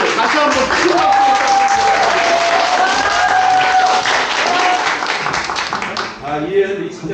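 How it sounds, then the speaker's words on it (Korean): Renewed burst of clapping from a group on a Yeosu-Suncheon October 19 heritage site tour, full and sustained for several seconds with voices and cheers over it before thinning out near the end. "다시 한번 큰 박수."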